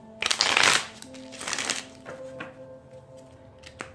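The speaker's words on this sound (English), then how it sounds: "so let's get to shuffling your cards" A deck of tarot cards is shuffled at close range: a loud riffle burst, a second softer riffle, then a few light taps and card flicks.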